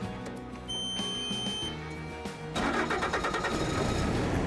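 A skid steer loader's engine cranks and catches, with beeping and a low mechanical hum before the engine roars to life at about two and a half seconds and keeps running loudly and steadily.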